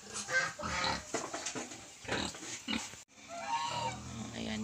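Native pig piglets grunt and squeal up close on a farm in the Philippines, a busy overlapping stream of short oinks and snuffles that drops out briefly, then resumes softer.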